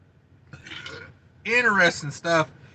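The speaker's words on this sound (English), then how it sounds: "I probably lost a bunch of subscribers belching like that" A man lets out a loud, deep belch in two bursts, close to the microphone, after a quieter throaty rumble.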